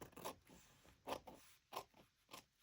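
Scissors snip through a fabric tag in four or five quiet, separate cuts with short pauses between them.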